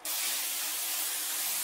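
Cooking spray hisses from an aerosol can onto a pan in one steady, continuous close burst lasting under two seconds, with no talk.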